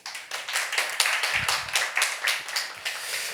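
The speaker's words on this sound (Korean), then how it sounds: "박수." A church congregation claps after a Sunday sermon, a short burst of dense, close hand clapping that holds steady for a few seconds with no voices.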